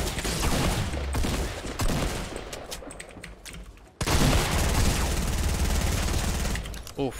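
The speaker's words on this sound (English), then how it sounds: "Kind of choked my SMG shots there" SMG gunfire from a Fortnite match: rapid bursts of close shots, with a brief cut near the middle, then a steady rattle of automatic fire and booms, loud throughout with no talking.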